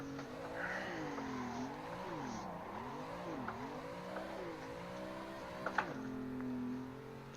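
A simulated car drifts in the racing game Assetto Corsa, its engine wailing and revving up and down in steady swells with a brief squeal of tyres, heard continuously at moderate volume without talk.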